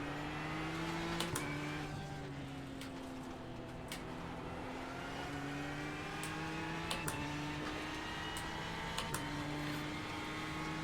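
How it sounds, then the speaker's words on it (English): Race cars circling Spa in an iRacing IMSA sim race, with a Porsche ahead backfiring: steady engine drone with shifting tones and several sharp pops or cracks scattered across it, no talking. "Porsche backfiring in front of us"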